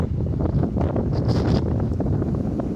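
Strong wind buffeting the microphone on a rocky hiking trail, a loud, steady low roar with gusty swells throughout.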